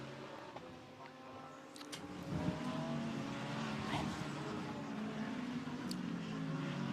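GT race cars on the Kemmel Straight at Spa during a 24-hour endurance race, engines droning and building as the field passes, with faint tire noise.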